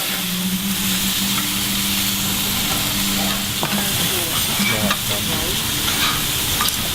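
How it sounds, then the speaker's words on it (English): Minced meat tteokgalbi patties sizzle and fry on a griddle in a traditional-style restaurant in Jeonju, a steady dense crackle heard up close with faint background rumble and no talk. "떡갈비, which is minced meat and then fried on the griddle"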